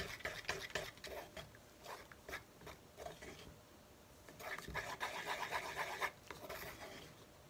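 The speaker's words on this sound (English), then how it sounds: "Give this a stir again." Acrylic pour paint is stirred in a cup with quick, scraping, clicking strokes that come in bursts separated by short pauses, close and fairly quiet.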